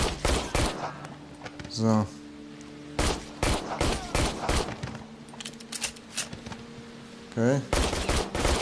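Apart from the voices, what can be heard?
gunfire in the VR video game Immortal Legacy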